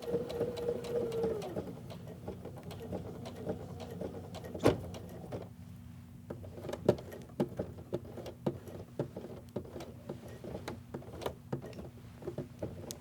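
A sewing machine stitches through the thick layered seam of a pants zipper replacement, giving a brief whirring run followed by slow, sparse mechanical ticks and knocks as the needle is stepped through, close and fairly quiet.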